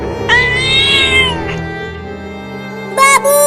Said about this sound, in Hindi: वहाँ पर एक बड़ी बिल्ली चिल्ला रही है